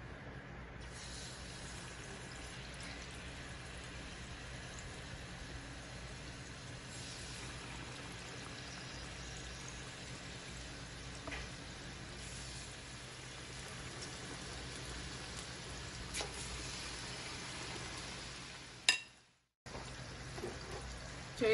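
Pakoras sizzle steadily in preheated oil in a pan over medium heat, a continuous crackling hiss that runs unbroken for most of the clip, then briefly cuts out near the end.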